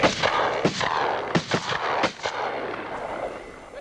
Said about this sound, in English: Even from short range, multiple shots may not kill the fox.